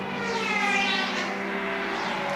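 Ligier LMP3 race car passing at Silverstone, its engine note rising and then sweeping down as it goes by at speed, a loud, harmonic-rich whine with a clear pitch shift, no voices.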